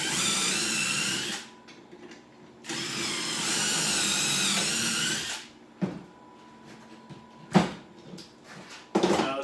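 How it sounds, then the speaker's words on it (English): A power drill boring pocket holes for a base cabinet whirs in two sustained bursts, close and loud, followed by clunks and shuffling of the workpiece. "I'm going to drill my pocket holes"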